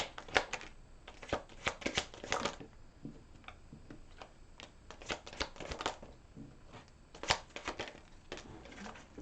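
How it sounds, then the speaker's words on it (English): Tarot cards being shuffled and drawn, soft irregular riffles, flicks and taps up close and fairly quiet, with no talking. "Let's take out the rest of these cards that we need for this reading for Taurus"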